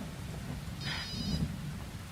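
A cellphone rings briefly in a home setting, a short trilling tone standing out over a steady low background rumble, with no talk during the ring.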